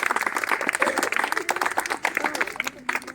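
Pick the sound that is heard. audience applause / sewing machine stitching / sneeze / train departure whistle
audience applause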